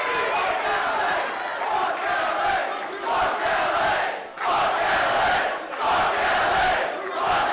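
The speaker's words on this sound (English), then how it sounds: "You hear the chant from the crowd." Wrestling crowd at a West Coast Pro women's championship match chanting in steady rhythmic waves, a dense roar of many voices filling the arena with brief dips between chant phrases.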